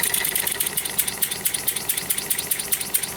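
A four-stroke engine converted to run on compressed air chugs with a rapid, regular hissing pulse and bright airy exhaust bursts, close and steady with no talk.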